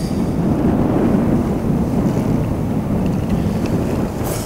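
Steady wind roars without a break outdoors at a shoreline spot during light-game horse mackerel fishing, a dense, loud rumble buffeting the microphone with no voices heard.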